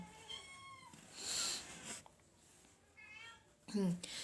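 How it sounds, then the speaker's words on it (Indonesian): Several cats meow indoors in a room, a series of close, drawn-out mews with a louder cry near the end, heard over quiet speech. "Mohon maaf, ini banyak kucing."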